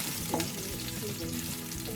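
Chopped ginger sizzles steadily in a hot pan of oil, a dense close crackling frying sound that carries on without a break and with no voices.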